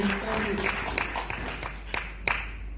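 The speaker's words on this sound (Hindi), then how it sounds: "तालियां उमेश भाई के लिए भी, मनीष भाई के लिए भी।" Scattered hand claps sound from an audience at a training session, a few sharp, uneven claps that thin out over time, with a voice speaking at the start.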